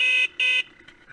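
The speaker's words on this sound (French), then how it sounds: "Le klaxon marche plutôt bien." Two short, loud beeps from the horn of a Beta 50 RR enduro motorcycle (2016), each about a quarter second, heard close up with a brief gap between them.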